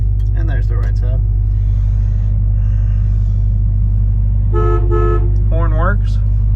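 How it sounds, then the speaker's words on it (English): A 1966 Ford Mustang Fastback sounds its horn in several short honks over a steady low engine rumble, close and loud. "Horn works."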